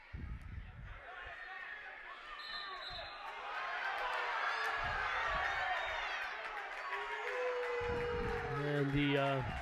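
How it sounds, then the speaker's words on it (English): A high school wrestling crowd roars and jeers at an official's call, the noise swelling loud and sustained, with a commentator talking over it. "crowd is expressing their opinions on that last call by the official, in case you didn't hear that"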